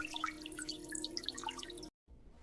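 A bathroom tap runs softly while someone washes their face, a light trickle and splash of water that stops abruptly near the end.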